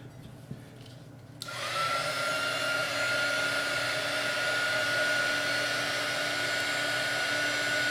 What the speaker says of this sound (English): We're going to use my little heat gunner thing here again.